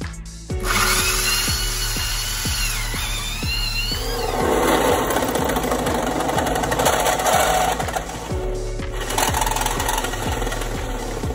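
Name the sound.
power drill drilling a hole in van floor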